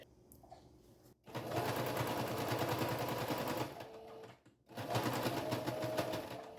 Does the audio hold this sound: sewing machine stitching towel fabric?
yes